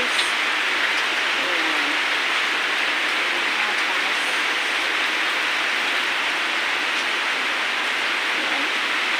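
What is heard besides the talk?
heavy rain falling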